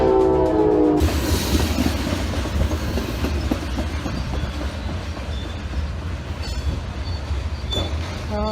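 A train roaring past on railroad tracks in Middlesex County, New Jersey, just before striking a vehicle, loud and close, with a steady rumble and clatter of wheels, some squealing, and a brief horn-like tone at the start.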